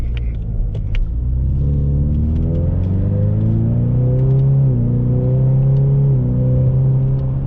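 A 2021 Ford Mustang with the 2.3 L High Performance Package engine revs up in sport mode, a loud steady rumble whose pitch climbs over several seconds, dips briefly at a shift, then rises again, heard from inside without talk.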